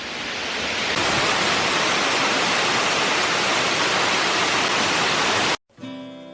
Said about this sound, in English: how beautiful this waterfall